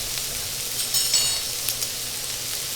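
Garlic and black beans sizzle steadily in a hot pan, a continuous close frying hiss with small crackling pops and no talking.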